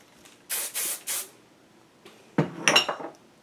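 Three quick bursts of aerosol hairspray hiss close by, then after a short pause a longer spray with a faint clink.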